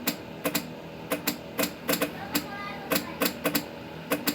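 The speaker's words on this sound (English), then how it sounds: "And you can hear the clicking. So there's a mechanical action occurring inside here." A halogen headlight on a BMW F30 clicks as the beam is flicked between high and low: about a dozen sharp, fairly quiet mechanical clicks at an irregular pace, several in close pairs, with no talking.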